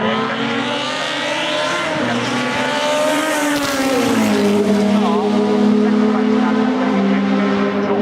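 Historic sports racing cars at Oulton Park roar past in a loud, continuous engine drone with rising and falling pitch as they sweep by, accompanied by a commentator talking over the noise throughout.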